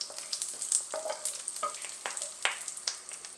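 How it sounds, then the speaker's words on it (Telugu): Whole spices, shahjeera, bay leaf and cinnamon, sizzling in oil with a little butter, a bright crackling fry punctuated by small pops and spoon taps, no voices. "కొంచెం ఆయిల్, కొద్దిగా బటర్. ఇప్పుడు దీంట్లో కొద్దిగా షాజీరా, తేజ్పత్తా, కొద్దిగా దాల్చిని."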